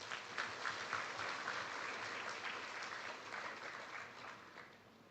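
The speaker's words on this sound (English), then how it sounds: "Our round of applause for our Filipino soldiers, our awardees, and the Manila Times" Audience applause for Filipino soldiers and awardees at a tribute ceremony, broad sustained clapping from a large crowd, steady and moderately loud before tapering slightly at the end.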